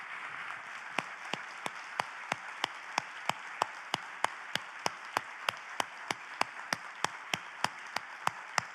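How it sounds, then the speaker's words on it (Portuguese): Congregation at a Brazilian evangelical praise and worship service claps in a slow, steady rhythm. Crisp, evenly spaced beats repeat about three times per second over a soft, constant background wash. "Vamos aplaudir?"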